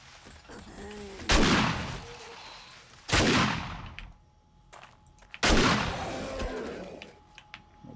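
Defensive turrets in 7 Days to Die fire three separate sharp bursts of gunfire a couple of seconds apart, each decaying quickly over a quieter background.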